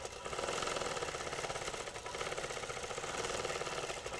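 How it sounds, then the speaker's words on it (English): Sewing machine running steadily while stitching free-motion quilting lines on a quilt with variegated thread, a continuous close mechanical whir with fast rhythmic needle pulsing throughout, no talking. "Stitching around close to the same line that I was on before."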